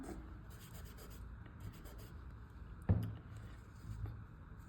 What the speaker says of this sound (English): this is a softer tissue paper